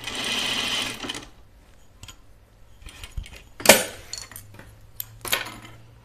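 A sewing machine runs in a short, fast burst while stitching gathers on a dress, then stops, followed by scattered small clicks and handling knocks.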